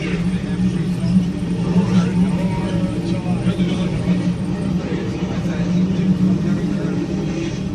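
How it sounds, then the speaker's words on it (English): A race car engine at Indianapolis Motor Speedway rumbles loud and steady throughout, a dense low drone with slight surges and no pauses, while a voice speaks over it. "Ladies and gentlemen, start your engines."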